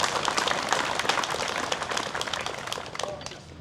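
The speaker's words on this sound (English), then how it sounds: "Give yourself a huge round of applause." Dense, steady applause from a large crowd at an outdoor gun rally in Western Australia, many hands clapping at once with fast, overlapping claps that hold at an even level throughout.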